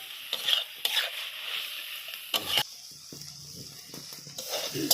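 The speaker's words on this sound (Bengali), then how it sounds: "বড়িটা দিয়ে আবারও কিছুক্ষণ ভেজে নেব।" Bori lentil dumplings frying with red amaranth greens and spices in a wok, with repeated scraping stirs over a steady soft sizzle; no talking.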